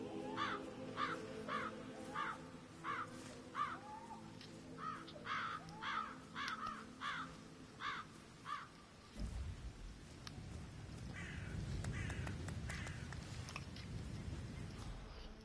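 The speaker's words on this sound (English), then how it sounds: "Damn birds." Crows cawing, a run of loud repeated harsh caws in a steady rhythm, then giving way to a rushing rain-like noise.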